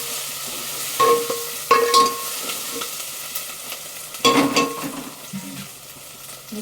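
Vegetables frying in oil in a home kitchen, a low steady sizzle with a few louder bursts of stirring and scraping at intervals, close by and without talk.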